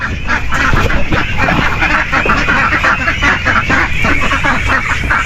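Loud, close flock of geese and ducks, honks and quacks overlapping constantly in a dense, noisy chorus.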